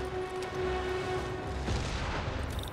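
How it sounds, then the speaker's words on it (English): A rumbling explosion in the video game Spider-Man Remastered, a dense sustained boom with crackling debris that swells and then tails off, loud and close with no talk. "trapped by the last explosion"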